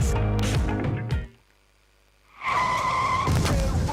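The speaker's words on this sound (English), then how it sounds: "That is me running into a jeep after my brakes failed" A car with failed brakes skids and crashes into a jeep, a loud burst of engine and tire noise cutting off abruptly, a second of near silence, then harsh crunching, scraping impact noise with a ringing tone.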